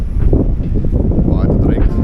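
Steady gusty wind buffets the microphone outdoors at Börkerheide, a loud continuous low rumble with someone talking over it.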